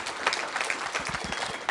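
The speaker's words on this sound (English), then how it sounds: "I think we should all give our teams a round of applause." An audience at a 2018 medical simulation competition applauds the teams, a brief patter of clapping with a few louder claps near the end.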